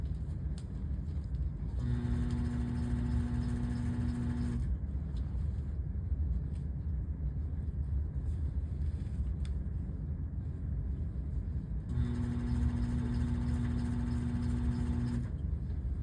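A sewing machine stitches fabric in a big circle on a T-shirt, running in two steady bursts of a few seconds each, with a quiet pause between them.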